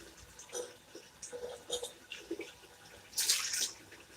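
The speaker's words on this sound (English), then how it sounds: "let me turn this hot water stream off" Hot water gushing from a tap in uneven, splashing surges that build to a louder rushing burst near the end, close up, with no voices.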